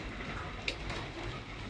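Pigeons kept indoors at a pigeon club, with soft cooing and bird murmurs over a dense background hum during winter care of the birds, a brief sharper sound midway, no clear talk.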